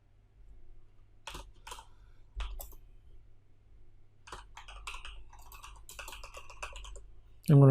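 Keys on a computer keyboard are tapped in short bursts of quick, close clicks with pauses between, fairly quiet, ending in a louder thump.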